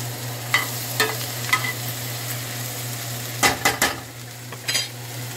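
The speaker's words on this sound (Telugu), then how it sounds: "ఇప్పుడు మనం ఈ ఆనియన్ మొత్తం ఫ్రై చేస్తాం." Onions frying in a pan for egg masala curry give a steady low sizzle, with a few sharp scrapes and clinks of a spoon against the pan and a louder cluster of stirring strokes near the end.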